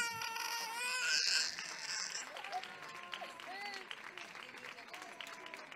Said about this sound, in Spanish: Y un fuerte aplauso para Alex